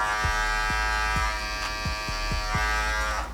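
Gold Andis Master electric hair clippers buzz steadily and loudly throughout, with a few soft rhythmic thumps beneath the constant motorized hum.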